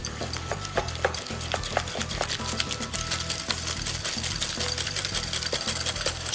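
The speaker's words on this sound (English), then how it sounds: "Whisk that into the egg yolks." Mascarpone cheese being whisked into egg yolks in a bowl, a quick steady rhythm of scraping, tapping strokes that carries on briskly and close for several seconds.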